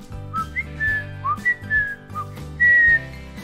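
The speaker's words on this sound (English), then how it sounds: "It allows me to whistle." A person whistles a short, bright melody of several quick notes and one longer held tone over a bouncy children's music backing, with no talking.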